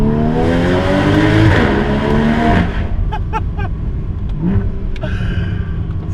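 Porsche Cayman GTS engine revving hard inside a tunnel, a loud rising and falling roar over the first half, then sharp crackling pops and bursts as the throttle drops, echoing and close.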